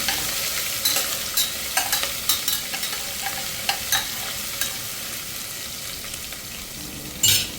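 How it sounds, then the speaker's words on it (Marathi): Garlic and ginger frying in a pan for Khandeshi khichdi, a steady close sizzle with scattered sharp clicks and spatters from stirring, ending in a louder burst of crackle. "लसूण अद्रकला 2 ते 3 मिनिटं व्यवस्थित कलसू द्यायचं आहे."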